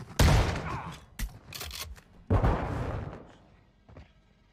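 Shotgun blasts in Modern Warfare 2 (2022): two loud, close booming shots about two seconds apart, each with a decaying tail, followed by a fainter thump.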